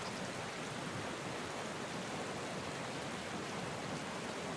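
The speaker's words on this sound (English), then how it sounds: "I should have walked over to the bottom of the waterfall to see if there's anything down there" A waterfall in the medieval survival game Medieval Dynasty roars as a dense, steady rush of falling water, constant and fairly loud throughout with no voices.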